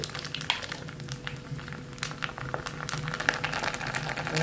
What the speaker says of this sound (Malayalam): നല്ലോണം എണ്ണ ചൂടായി ഇതാ കടുക് ഇട്ട്